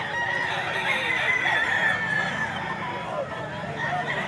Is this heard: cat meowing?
no